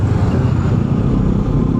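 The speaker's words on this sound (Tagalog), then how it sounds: "traffic ngayon." Steady road traffic rumbles close by, a dense low engine drone with no clear breaks, like cars and motorbikes crawling through congestion in Bulacan.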